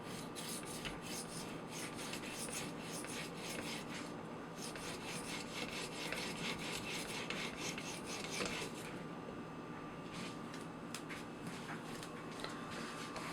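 A knife being sharpened with a stone on an Edge Pro sharpener, quiet rhythmic rasping strokes repeating steadily at close range against a low background hum.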